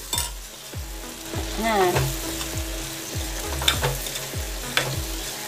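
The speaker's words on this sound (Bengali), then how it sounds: "এবার ভালো করে মিশিয়ে নেব, একটু কষে গেলে দেবো চিনি আর গরম মশলা।" Goat liver curry with a few potatoes sizzling in a pan, stirred in repeated scraping strokes about every half second over a constant close fry, with a single brief word spoken.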